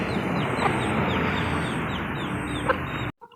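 Farmyard chickens cluck in a steady, close stream of short repeated calls, with no talking over them.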